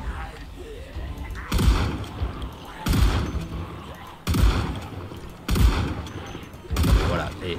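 Gunfire in the zombie survival game Project Zomboid: five loud, sharp shots spaced roughly a second apart, each with a brief booming tail over a steady background din.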